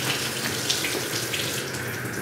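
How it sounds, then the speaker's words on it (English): Water runs steadily from a tap into a master bathroom tub, a continuous even hiss and splash close by with no talk over it. "Turn the water on."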